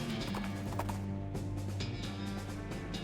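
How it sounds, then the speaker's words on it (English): Thundering hooves of a riderless horse in a text adventure game, a quick clip-clop gallop that runs steadily beside sustained musical tones. "Hear a shout in the distance behind you, the thunder of hooves"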